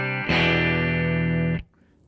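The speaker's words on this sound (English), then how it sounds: "This is the bypass sound." A Callahan Strat played through a Two Rock Classic Reverb amp with the pedal bypassed: one bright strummed chord rings loud and steady for about a second, then is choked off, leaving near silence.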